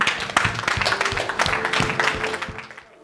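A church congregation at a French-speaking miracle night service applauds and cheers in acclamation of the Lord, steady dense clapping with voices mixed in, fading out at the end.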